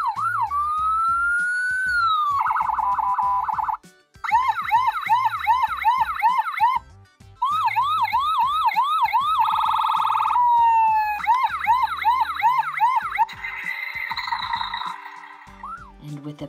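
A toy fire engine with lights and sounds, carrying a Rescue Heroes fireman in the cab, plays loud electronic sirens that shift through warbling wails, rapid yelps and steady tones, with brief gaps between patterns.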